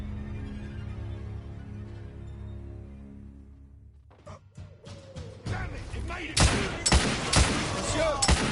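Shotgun blasts in The Order 1886 video game: after a quiet musical stretch, a burst of sharp, loud reports rings out, several spaced shots closing the clip.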